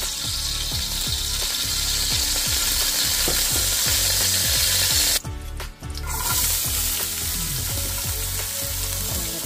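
Onions are sautéing in hot oil in a pan for beef stew, giving a loud, continuous, close sizzle and crackle with many small rapid pops. The sizzle drops out for a moment near the end, then resumes.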